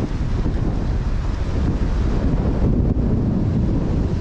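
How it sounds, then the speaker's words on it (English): Strong wind on a hike in Scotland's Arrochar Alps, Glen Loin, roars steadily against the microphone, loud and continuous throughout, with no other sounds standing out. "It's so windy."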